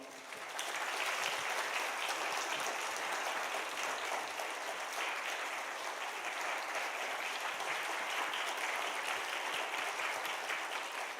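A church congregation applauds to welcome the pastor, with sustained even clapping from many hands lasting over ten seconds at a moderate distance and no talk on top.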